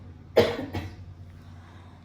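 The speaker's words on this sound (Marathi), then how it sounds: "बरं नसल्यामुळे खोकला वगैरे आहे ना" A single person coughs twice in quick succession, close by, followed by quiet room noise.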